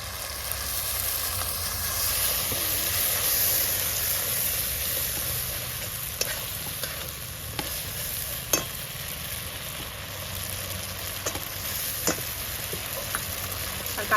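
A paste of ground mustard, poppy seed and dried chilli frying in oil, giving a steady hiss with occasional scraping taps of a spatula in the pan.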